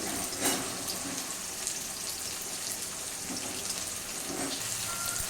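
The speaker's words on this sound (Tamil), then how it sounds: "இப்போ இந்த வெங்காயத்தை போட்டுக்கலாம். வெங்காயம் வந்து நல்லா வதங்கணும்." Onions sautéing in a pan for a green peas and karuna kizhangu (yam) gravy, giving a steady, even sizzle and crackle throughout, close and continuous with no voices.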